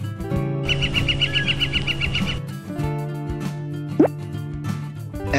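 A woodpecker gives a quick run of evenly spaced, rapid tapping or chattering notes lasting under two seconds, set over a bouncy children's music backing with occasional plopping effects.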